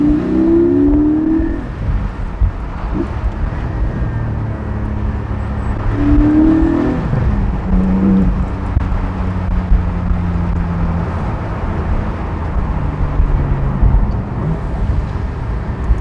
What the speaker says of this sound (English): You hear that nice engine note.